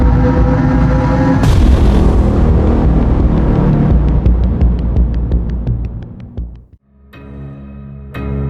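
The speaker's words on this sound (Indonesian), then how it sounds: "Desingan peluru meriuhkan suasana, ditambah dengan granat yang bertubi-tubi" PUBG battle with loud, rumbling grenade explosions and heavy booms rolling together, then a rapid series of sharp cracks like bullets, a sudden drop to near silence, and renewed blasts at the end.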